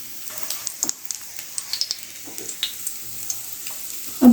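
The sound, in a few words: oil sizzling on a griddle while cooking corn roti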